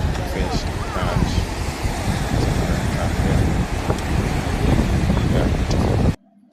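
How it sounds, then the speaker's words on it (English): Atlantic Ocean surf breaking on a beach during a coastal field trip, a steady loud wash of waves mixed with wind buffeting the microphone, continuous for about six seconds before cutting off abruptly. "Now this is Atlantic Ocean."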